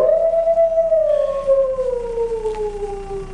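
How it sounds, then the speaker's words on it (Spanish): A wolf howl from the 1991 El Chapulín Colorado comedy episode, a single long sustained tone that slowly slides downward over several seconds, loud and close with no talk over it. "¿Oyeron eso? ¿El aullido del lobo?"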